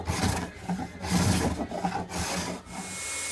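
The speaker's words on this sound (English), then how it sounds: "using a spoke shave, get all the curves nice and smooth" A spokeshave smooths the curved edges of clamped MDF pieces, making close, repeated rasping strokes in an uneven back-and-forth rhythm with brief pauses between passes.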